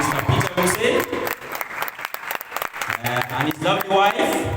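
Guests are welcomed with applause at the Mading Aweil community leadership inauguration. Sustained clapping from a gathered crowd is heard, mostly under a voice speaking over a PA, and it swells and dips in uneven bursts.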